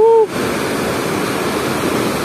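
Water pours steadily at Wawa Dam, a dense, continuous rushing roar heard close, with a brief tonal whistle or voice at the very start before the flow takes over.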